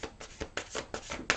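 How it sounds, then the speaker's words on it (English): Tarot cards are shuffled in quick riffling bursts, about six rapid flutters in a row, close and soft. "One more little shuffle"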